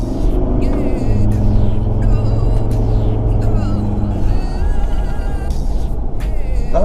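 Engine of a 2015 Ford Ranger Wildtrak pickup while driving, a steady low rumble and road drone heard from inside the cab, continuous and fairly loud throughout.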